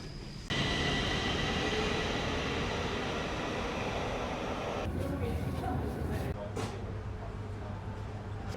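Stockholm metro station ambience: a steady loud rumble and hiss of a train moving through the station, shifting in tone partway through, with softer clatter and background noise afterward.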